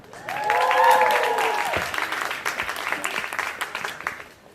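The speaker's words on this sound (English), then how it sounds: "Please, a round of applause for director Kaori Miura." Audience applause at a Pretty Guardian Sailor Moon stage show press event, a dense steady patter of clapping that swells then thins, with a few voices and tonal sounds over the start.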